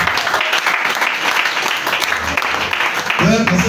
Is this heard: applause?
yes